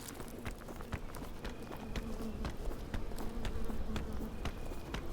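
A bee buzzes in the co-op climbing video game PEAK, a steady droning hum running the whole time alongside repeated soft clicking taps and game ambience, with no speech.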